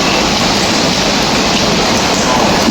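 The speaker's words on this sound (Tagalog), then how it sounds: "So medyo maulan talaga." Steady heavy rain on a walkway in Hong Kong, a loud, dense, unbroken hiss filling the short stretch with no talking.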